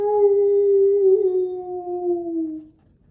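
A reader imitates a dog's long, arching howl with their voice, a single sustained tone held for nearly three seconds, sliding slowly downward before stopping, loud and close with no other sound.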